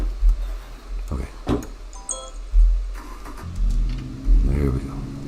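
A car engine from The Long Drive runs and revs in uneven surges, with low rumbling pulses rising and falling close by, while a person talks over it.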